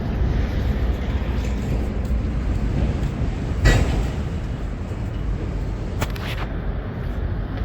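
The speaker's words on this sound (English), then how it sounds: "They're a freight train." A freight train rolls through downtown Tacoma, Washington, a steady low rumble of wagons on rails with a brief louder clank partway through and another short rattle near the end, heard at moderate distance without talk.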